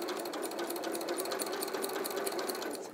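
A sewing machine stitches continuously at a steady fast pace, close and fairly quiet, with no talk over it.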